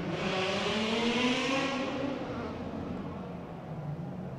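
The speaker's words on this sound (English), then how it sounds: "You can hear that engine roar there for you." Race car engine roaring through a sweeping right-hand turn at a circuit, a loud, buzzing high-pitched drone that rises then fades slightly as the car passes, heard alone without talk.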